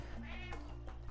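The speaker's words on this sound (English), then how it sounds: "Yeah, my cat's being quite chatty." A pet cat meows in a short chatty burst, close by and fairly quiet, over a steady low background hum from a game session.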